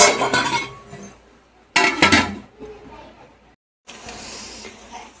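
Metal pot lid set down over chicken biryani masala heating on the stove, giving clinking bursts of metal and glass-like clatter at the start and middle, close and fairly loud, with a gap of near silence before a softer hiss.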